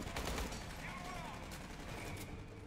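Sustained automatic turret gunfire in the Aliens: Colonial Marines game, a dense continuous rattle of shots running under faint co-op chatter.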